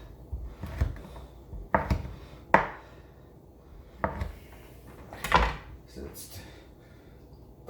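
Knife chopping pepperoni sticks on a cutting board, several separate sharp thunks at uneven intervals with quiet gaps between them.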